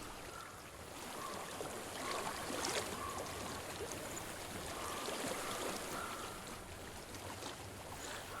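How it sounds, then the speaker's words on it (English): Flowing stream water in the Hellblade: Senua's Sacrifice game world, a soft steady wash of running water with a faint breezy ambience, distant and quiet throughout. "I hear water."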